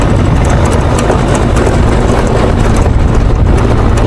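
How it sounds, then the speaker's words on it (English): An old ranch truck engine rumbles steadily while driving along a dirt road after fall rain, a loud continuous low drone with rattling and wind buffeting throughout, no talking. "I'm going to take the old ranch truck as far as I can because the road's fairly good right now"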